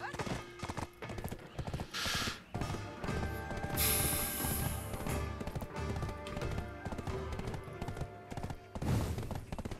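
Horse hooves clip-clop steadily in the video game Black Desert Online, a continuous rhythmic trotting that sits under intermittent talking, with a brief whinny-like burst partway through.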